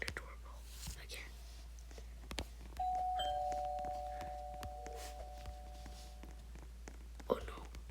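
A doorbell rings in the Roblox game Brookhaven, a clear sustained two-tone chime starting mid-clip and fading out over a few seconds, with quiet whispering and soft footsteps around it.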